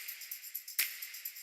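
A crisp snap sample drenched in reverb lands once in a progressive house track, its bright tail ringing out over a steady pattern of soft, airy tambourine hits.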